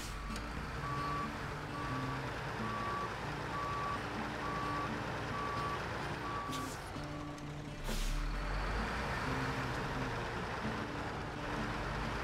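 A Paystar 5600TS truck reverses in the video game SnowRunner, its reversing alarm beeping in a regular steady rhythm over a low engine drone, with a brief air-brake hiss partway through and no talk.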